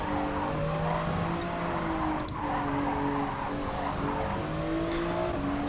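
Race cars in GT Sport sweeping through the Porsche Curves, their engines a loud, continuous high whine with gliding pitch changes as gears shift, a short dip partway through, and faint tire squeal, with no voices.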